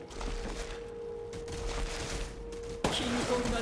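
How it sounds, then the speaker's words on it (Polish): Magnum revolver fire in Resident Evil Village: a sharp blast cuts in near the end over a steady hum and background noise, leaving a brighter ringing tail after the shot. "Żebyśmy mogli użyć tego Magnuma, mamy dwa strzały dokładnie."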